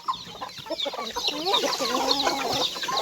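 Chickens cluck on a farm, a busy flock of short, overlapping clucks and squawks close by, with faint human voices mixed in beneath the birds.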